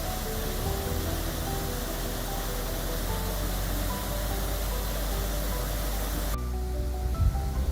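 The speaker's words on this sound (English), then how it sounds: "Some waterfalls in Wales appear red due to the presence of iron oxide rust in the rocks and soil that the water flows over." A waterfall in Wales pours over rocks, giving a steady, dense rushing roar that stays loud and continuous throughout, with no voices.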